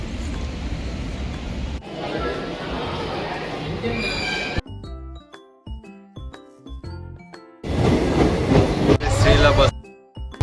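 Steady rumble and clatter of a crowded passenger train in motion, interrupted midway by a quieter stretch with tonal chimes, then the loud rolling noise returns.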